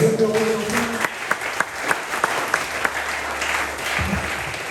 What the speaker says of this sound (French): On peut acclamer pour le Seigneur.